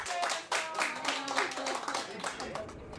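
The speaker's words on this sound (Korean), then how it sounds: "직원들은 박수치며 환호했습니다" Employees gathered in a provincial government office clap and cheer at an official announcement, brisk scattered applause mixed with excited voices throughout.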